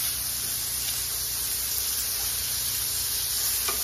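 Bacon fries in a pan with a constant, loud hissing sizzle that stays even throughout.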